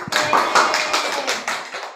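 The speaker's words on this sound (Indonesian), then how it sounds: "Tepuk tangan dong." A classroom audience applauds during a microteaching practice lesson, a burst of several hands clapping in an uneven rhythm, close and fairly loud, lasting about two seconds with no talking over it.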